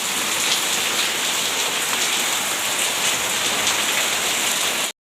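Heavy rain pounds steadily onto the veranda of a poor family's house. The dense, loud hiss of drops stays constant throughout with no voices, then cuts off abruptly.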